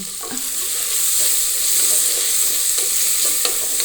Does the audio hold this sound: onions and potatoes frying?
yes